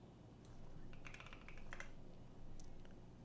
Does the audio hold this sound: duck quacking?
no